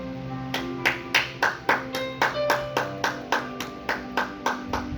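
Rhythmic hand clapping in a church service, acclaiming the Lord: a steady run of about fifteen sharp claps over sustained organ or keyboard tones, close and evenly paced.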